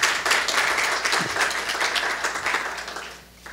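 Applause from the audience at a round-table event on technology and Lean Construction welcomes a guest to the stage, a moderate, broadband patter of many hands that holds steady and then thins out near the end.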